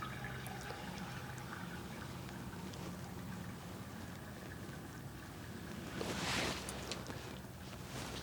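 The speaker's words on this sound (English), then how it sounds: "he's going to flush it again" Water from a flushed toilet rushes steadily through a sewer pipe underwater, a continuous low wash with a brief louder surge near the end, no talk.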